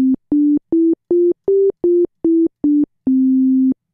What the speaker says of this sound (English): there's our sine wave oscillator